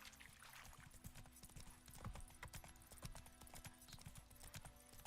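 A horse ridden in The Witcher 3: Wild Hunt trots with a steady, rhythmic clip-clop of hooves, fairly close and continuous, with faint game ambience underneath.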